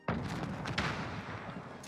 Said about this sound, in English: Enemy cruise missile is coming.